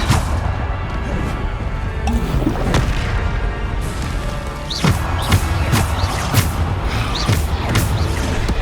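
Depulso force spell cast in Hogwarts Legacy, a series of heavy booming thuds and crashing impacts with whooshing bursts over continuous game noise, no talk.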